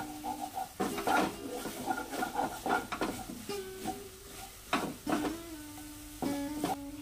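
Pitha mixture stirred continuously in a pan, rhythmic scraping strokes of a utensil against the metal with a faint sizzle and a steady background hum, close and moderately quiet.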